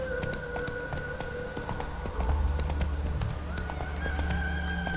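A horse's hooves clip-clop at a steady run across rough ground in the game The Witcher 3, with a tonal drone and occasional whinny-like sounds over a dense, continuous background.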